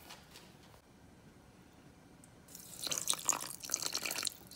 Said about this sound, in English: you add some oil to your garri, a little bit of water, you spray with some water